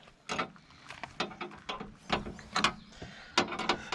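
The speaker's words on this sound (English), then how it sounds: "for the antenna, you're going to want a 3/8 wrench" A 3/8 wrench loosens the old antenna on a Jeep JK, giving a series of sharp metallic clicks and short scraping turns at an uneven rhythm, close by and fairly quiet.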